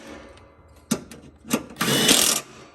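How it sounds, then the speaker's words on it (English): A power tool tightens bolts on a part held in place, heard as a couple of short mechanical taps followed by a brief, louder whirring burst lasting about half a second, fairly close. "it's always good to kind of hold it up in its spot while you're tightening at least 2 bolts"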